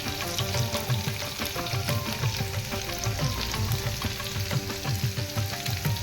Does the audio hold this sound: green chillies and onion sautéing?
yes